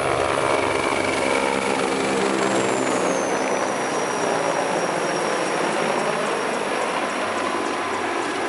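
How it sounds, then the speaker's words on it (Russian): A Mi-35 military helicopter passes overhead in winter, its rotor producing a loud, rapid, steady mechanical chopping rattle that holds close and constant throughout, with a whining turbine tone sliding down in pitch partway through. "Вот такой вот бонус в виде вертолетов"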